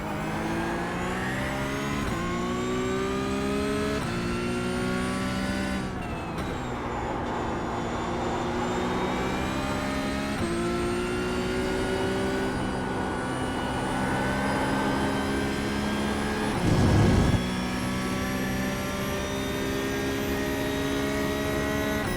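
A Porsche 992 GT3 Cup car races around Circuit Park Zandvoort in the iRacing video game. Its engine howls continuously through upshifts and downshifts, with rising and falling revs across a lap and a brief rumble over a kerb near the end.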